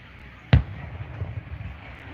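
A single sharp firework bang at a Fourth of July-eve show in Mt Airy, Maryland, heard from a distance, followed by faint crackling and outdoor ambience.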